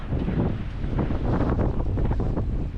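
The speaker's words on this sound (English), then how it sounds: "It's too fucking windy." Strong headwind buffets the microphone of a cyclist riding a Brompton by the seaside in Greece, a continuous low roar with gusty surges, loud and close throughout.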